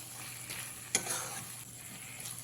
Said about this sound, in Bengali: আলুটা দিয়ে মশলার সঙ্গে খুব ভালো করে মিশিয়ে দিতে হবে